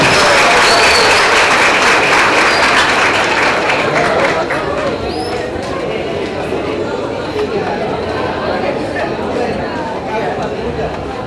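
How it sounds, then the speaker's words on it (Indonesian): A large crowd applauds the governor at a public lecture, loud dense clapping with chatter that fades slightly over several seconds. "Kali ini kita berikan tepuk tangan yang meriah kepada Bapak Gubernur."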